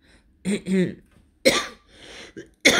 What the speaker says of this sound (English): Excuse me again for coughing.